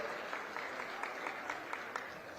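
A crowd at a Chhattisgarh government event applauds to welcome former minister and Bilaspur MLA Amar Agrawal. The steady clapping sounds fairly distant and faint, with a few sharper claps standing out.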